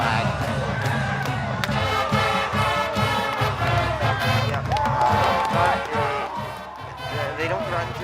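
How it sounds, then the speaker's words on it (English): A high school football crowd cheers loudly and continuously as people storm the field. Shouts and whoops mix into a dense roar, and voices can be heard throughout. "The crowd is very excited as they storm the field,"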